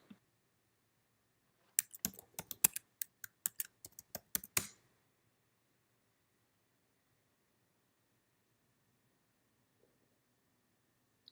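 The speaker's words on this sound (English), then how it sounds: "if you type your password, it helps, of course" Password being typed on a computer keyboard while logging into a workspace, a quick burst of about a dozen crisp key clicks lasting a few seconds, then near silence.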